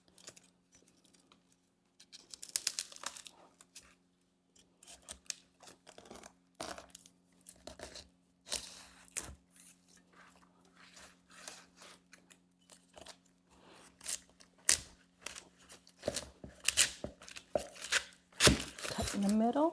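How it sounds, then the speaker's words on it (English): A knife cuts through a ripe pineapple, giving irregular crunchy, tearing slices and scrapes with scattered knocks on a board, close by and fairly loud, with a steady hum in the background. "here's the pineapple. I'm going to cut it"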